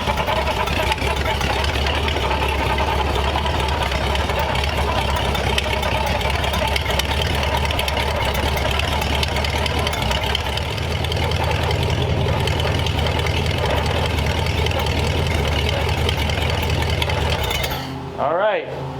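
A rebuilt engine in a 1934 Ford runs with headers, idling loud and steady with a rough, throbbing exhaust note for most of the stretch before it cuts out near the end.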